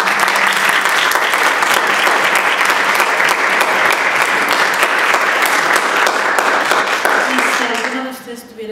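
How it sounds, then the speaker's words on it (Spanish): Sustained audience applause after a central-bank history conference presentation, loud, dense and steady for about eight seconds before tapering off near the end. "creo que merecen un aplauso a nuestros presentadores"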